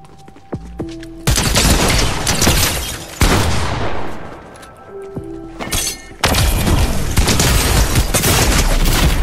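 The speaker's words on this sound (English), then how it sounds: "the auto shotgun is so annoying!" An auto shotgun in a video game fires bursts of loud, rapid blasts close up, separated by brief lulls with whooshing debris and small tonal game beeps.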